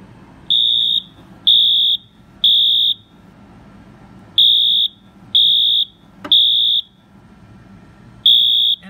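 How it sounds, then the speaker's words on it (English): A smoke detector sounds during a fire alarm system test, sending out about seven sharp, shrill electronic beeps in uneven pulses with short gaps, loud and close, with no talking. "And let's do the smoke detector."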